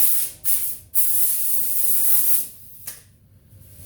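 Hand sanding with 180 grit paper over primer on the body of a 1980 Buick Regal gives a bright hissing scrape in a few strokes, broken by short pauses, close and moderately loud.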